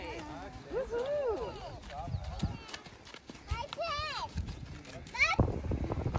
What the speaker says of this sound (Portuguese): Tá andando no ponizinho.